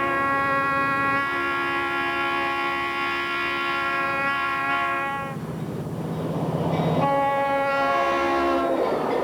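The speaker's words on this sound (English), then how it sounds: "better than 80 Conrail trains a day pass by this clubhouse" A Conrail freight train passing a model railroad clubhouse in Olmsted Falls, Ohio, its loud multi-tone horn blaring in long blasts over rumbling wheels, a brief lull between sustained horn calls.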